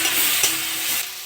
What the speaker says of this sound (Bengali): আমি আদা রসুন বাটা দিয়ে দেবো 1 চামচ। এটা নেড়ে চেড়ে একটু